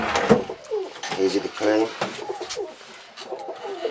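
Racing pigeons in a British fancier's loft coo softly and repeatedly, close by, while someone talks over them.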